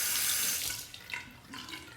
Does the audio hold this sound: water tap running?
yes